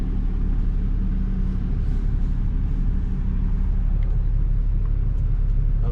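A vehicle reverses slowly down a boat ramp towing a boat trailer, giving a steady, close engine rumble with low idling drone throughout and no voices.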